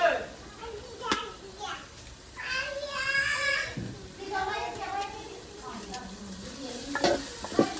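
Meat added to hot spiced oil in a home kitchen, sizzling and frying while a utensil stirs and scrapes the pan, with voices talking in the background.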